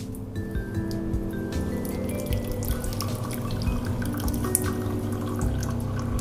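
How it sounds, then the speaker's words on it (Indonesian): Hot water at 90 degrees poured into a cup, 150 ml for a long black coffee, giving a steady close trickle and splash that runs continuously, with no talking. "jadi untuk yang long black kita isi terlebih dahulu dengan air ya, panas 90 derajat ya"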